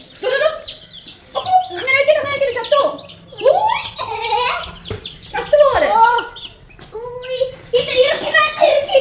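Chickens cluck and call repeatedly and loudly near a house, overlapping with a voice talking.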